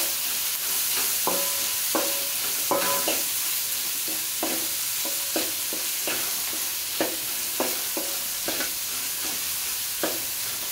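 Onion and tomato sautéing in a pan, a steady sizzle broken by regular scraping strokes of a spatula, roughly one every second, close and clear with no talking.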